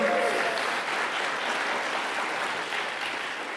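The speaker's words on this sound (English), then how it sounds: "you're applauding each other for showing up on a crummy night like this" Broad, even applause from an audience at Town Hall Seattle, a steady wash of many hands clapping that holds for the whole stretch and tapers slightly at the end, with no talk over it.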